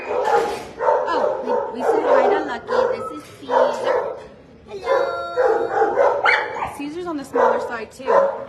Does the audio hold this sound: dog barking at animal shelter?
yes